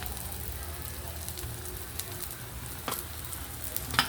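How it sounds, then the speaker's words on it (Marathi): Stuffed bitter gourds sizzle quietly in hot oil with a soft, continuous crackle, broken by occasional light stirring clatters. "आता ही भरलेली जी कारली आहे ती आपण ॲड करूयात"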